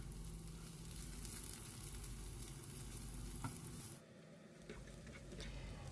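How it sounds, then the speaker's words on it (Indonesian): Onion and garlic fry in a pan over medium heat with a steady, close sizzle and crackle. Partway through the sizzle briefly thins, and light stirring clicks come through. No one speaks. "bawang bombay dan bawang putihnya kita goreng dengan api sedang saja sampai layu"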